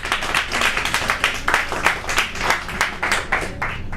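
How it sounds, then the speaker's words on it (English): Crowd at an open-mic spoken-word performance night clapping together in a steady, quick rhythm, the beat pulsing clearly several times per second, close and lively with no talk over it. "Clap it up, clap it up."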